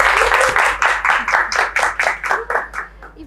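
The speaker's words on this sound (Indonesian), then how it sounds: "tepuk tangan dulu dong untuk Ibu Ine" An audience at a Mother's Day women's event claps in a burst of distinct, rhythmic hand claps that gradually soften and thin out.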